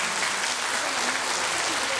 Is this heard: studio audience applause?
yes